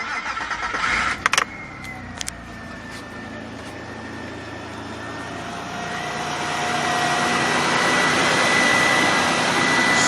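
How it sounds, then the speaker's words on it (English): A cold Nissan VG33E V6 car engine cranks and catches, then idles with a rising, steady whir, a few clicks at the start, heard up close. "we want to start the engine and listen for that noise again"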